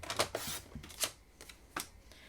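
Calypso Coral cardstock is trimmed for a card centerpiece with a paper trimmer, making several short, crisp, scraping cuts and slides close by and fairly quiet, with no talking.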